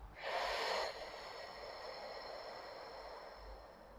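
A slow, breathy exhale during a self-massage relaxation exercise, a soft rush of air that fades into a quiet, steady hiss.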